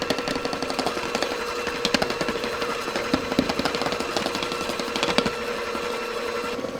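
An electric mixer kneads thickening dough as flour is added for traditional Christmas angel wings. The motor churns in a steady close rattle with small knocking pulses throughout, and no voice is heard.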